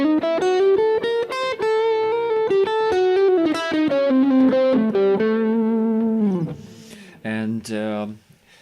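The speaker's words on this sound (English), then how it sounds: "Now the diminished scale looks and sounds like this." Clear melodic scale run on a heavily processed, distorted instrument, notes rising and falling in a steady legato line with a few detached notes at the end, loud and alone.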